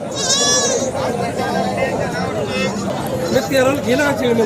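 Several goats and kids bleat in wavering cries, some close and loud, at the Sangola goat market, over a busy background of people chattering nearby.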